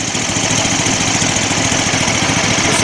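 A Lifan 20 hp engine on an aerosled runs with its muffler fitted, a steady, loud, close mechanical drone with an even pulsing beat and no change in pace.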